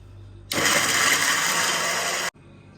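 An electric grinder blitzes dry-roasted spices including fennel seeds for chicken nihari, a loud steady whirring roar that starts abruptly and cuts off sharply after under two seconds.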